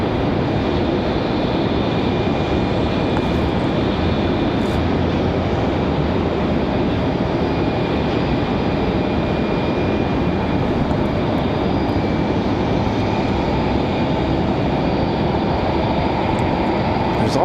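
Public Airways flight 4652, an airliner bound for Chicago O'Hare at Raleigh-Durham, gives a steady, loud broadband engine roar that holds evenly throughout with no clear peak.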